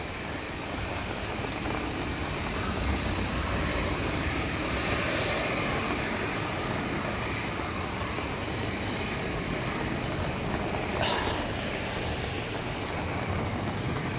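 Airliner taking off down a Manchester Airport runway in stormy weather, a steady, broad engine roar with wind noise that holds loud and constant throughout.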